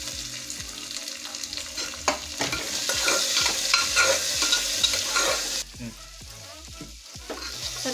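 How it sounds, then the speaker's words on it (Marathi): Vegetables sautéing in oil in a pan for veg biryani, with a steady close sizzle and repeated scraping stirs of a spoon against the pan throughout. "आता ह्याला चांगलं परतून घ्यायचं हे सगळं भाज्या टाकून"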